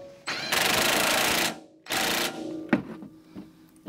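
An impact wrench with a 19 mm socket tightens a Toyota ball joint nut in two loud, sustained rattling bursts, the first about a second long and the second shorter, followed by lighter clanks and taps nearby.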